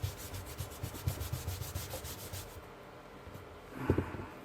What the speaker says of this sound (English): So now I'm just going to rub out the pencil work.